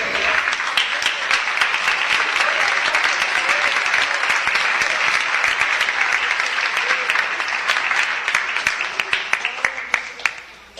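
Church congregation clapping loudly and in unison, a long, dense, rhythmic burst of many hands that holds steady before thinning into a few scattered final claps.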